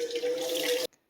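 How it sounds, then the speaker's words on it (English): Tap water runs steadily from a faucet into a container, a loud, even rush with a hint of rising pitch that cuts off abruptly near the end, followed by a single drip. "we're going to fill this up with the same tap water"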